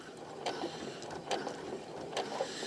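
A sewing machine top stitches and back stitches through furry lion costume fabric, making faint, quiet mechanical whirring in a few short bursts close by.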